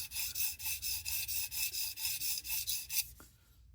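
A knife is drawn across the stone of a Tsprof Pioneer guided sharpening system in quick, even back-and-forth strokes, about a dozen regular rasps up close, ending with a small clack before the strokes stop.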